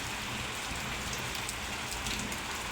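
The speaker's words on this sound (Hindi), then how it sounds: "बारिश हो रही है भाई, बहुत तेज़ बारिश हो रही है।" Heavy rain pours outside a room in a dense, loud, unbroken hiss and patter, with no voices over it.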